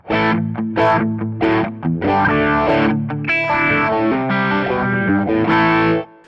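Heavily distorted electric guitar chords and riffs with a swirling, sweeping phaser effect from a distortion pedal placed before a phaser pedal, loud and close, ending abruptly.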